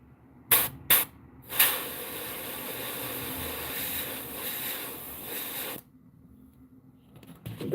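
An airbrush sprays paint in freestyle koi fish patterns, giving a few short hissing puffs and then a sustained close spray lasting several seconds before cutting off.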